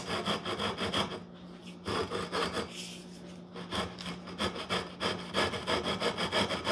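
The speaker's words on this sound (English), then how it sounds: "I got a piece of, I think, 80 grit on here, and I'm just going to run it across these fret ends." Coarse 80-grit sandpaper on a flat beam rasps back and forth across guitar fret ends in steady, rhythmic strokes, close and fairly loud, with no talking.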